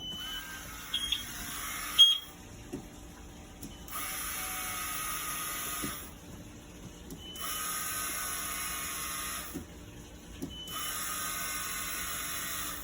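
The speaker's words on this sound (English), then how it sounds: "The fuel pump by turning the key on and off a few times" Electric fuel pump priming on a Volvo Penta 5.0 GXi boat engine in a Four Winns boat, as the key is cycled on and off: a steady high whine runs in repeated stretches of about two seconds, broken by short gaps and faint clicks.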